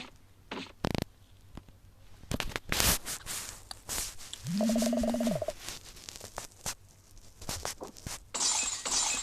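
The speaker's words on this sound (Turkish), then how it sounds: "Eyvah camlar kırıldı." Glass windows shatter with sharp, bright crashes in a bone-breaking video game, alongside scattered impact clatter and a short synthetic rising tone partway through. No one speaks.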